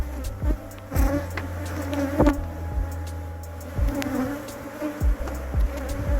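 Honey bees buzzing at an open hive in spring, a dense steady drone close by with individual bees whizzing past the ear, and intermittent clicks and knocks of hive handling.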